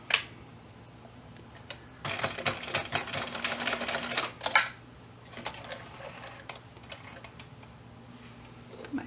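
Sewing machine set to zigzag, stitching a quick tack through two layers of felt, with a fast rattling run of stitches in two short bursts, quiet and close, among light handling clicks.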